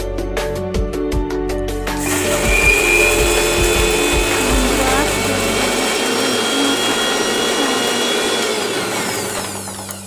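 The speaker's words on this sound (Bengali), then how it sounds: "তারপর আমরা সর্ষে আর লঙ্কাটা খুব ভালো করে বেটে নেব।" A kitchen blender grinds soaked mustard seeds with green chili into a paste, a loud steady motor whir that runs continuously throughout, with a rattling, uneven start in the first couple of seconds.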